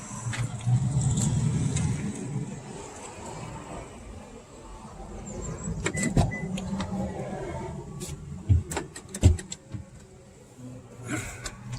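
A 2016 truck towing a 1962 Mercury Comet S22 on the road at sunset, giving a steady low engine and road rumble inside the cab, punctuated by scattered clicks and knocks.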